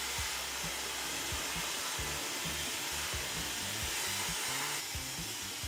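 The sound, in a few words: hair dryer running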